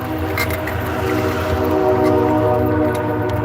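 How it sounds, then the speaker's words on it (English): Train approaching outdoors, a loud steady rumble with sustained tonal horn-like hum over rolling rail noise, continuous and close with no speech. "you hear the train a coming."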